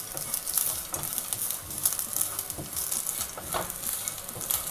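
Almonds and masala spices roast in a hot pan, crackling and sizzling softly and steadily while being stirred, close by with no voices.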